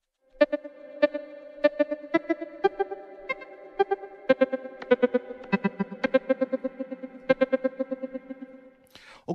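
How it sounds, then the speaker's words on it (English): Ambient synthesizer loop with reverb applied: a steady run of bright, pulsing tonal notes repeating in a regular rhythm, each note trailing off into a soft wash, loud and close with no voice over it. "Let's add some reverb."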